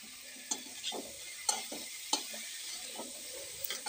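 Kochu loti (taro stolons) stirred and fried in a pan with salt and turmeric: a steady soft sizzle runs throughout, broken by scattered sharp scraping strokes of a spatula against the pan, no voices.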